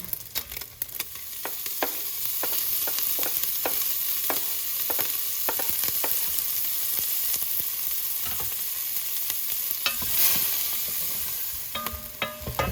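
Bacon frying in a pot over high heat, a loud continuous sizzle and crackle punctuated by repeated scraping clicks of a utensil stirring against the metal.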